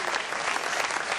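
An audience at a jazz festival guitar contest applauds a finalist with dense, continuous clapping that fills a hall, loud and steady from start to finish with no break.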